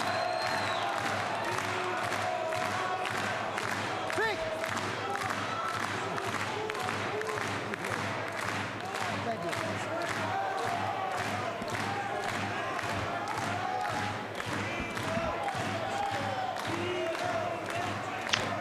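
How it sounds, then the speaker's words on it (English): A boxing crowd at a Timo Hoffman vs Bob Mirovic bout in Germany roars and cheers for Hoffman, a dense sustained arena din with rhythmic clapping and chanting, far-off voices mixed in. "the crowd are trying to boost Hoffman's spirits"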